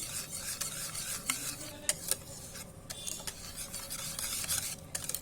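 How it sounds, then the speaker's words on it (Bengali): Salt and baking soda are stirred into jackfruit juice batter in a bowl, a quiet wet rhythmic scraping with small sharp clicks as the spoon hits the sides. No voices are heard. "এখন ভালো করে মিশিয়ে নিব কাঁঠালের রসের সাথে"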